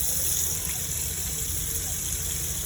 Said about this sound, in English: come to your kitchen sink and then just pour the water